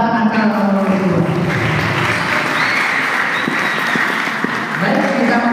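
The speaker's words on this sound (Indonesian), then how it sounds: "Tepuk tangan kepada pasangan calon nomor 2." Applause from an audience at a student election debate in an Islamic boarding school, dense steady clapping throughout with crowd murmur and some voices underneath.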